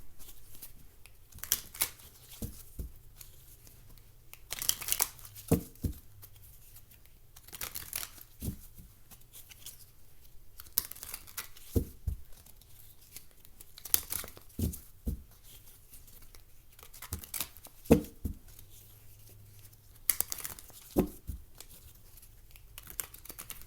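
Soft, close-up shuffling of tarot cards, quick riffling bursts repeating every few seconds with quiet pauses between.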